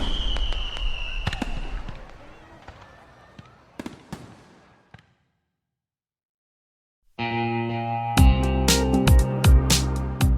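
Fireworks crackling and popping in scattered bursts, then a brief silence before a dense, booming run of loud explosions.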